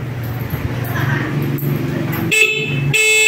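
A short, bright horn toot from a Motoposh Bida 110 small 110cc motorcycle blares loudly near the end, over a running engine and nearby voices.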